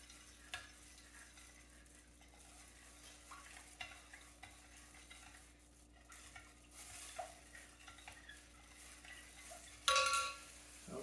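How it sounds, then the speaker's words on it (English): A vanilla ice cream base being stirred to dissolve sugar, faint spoon scrapes and soft taps against the bowl over a low steady hum, with one louder clink near the end. "I'm going to stir this up. Going to get the sugar dissolved before we add in our lime juice."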